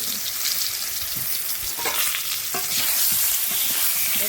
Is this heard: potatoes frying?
yes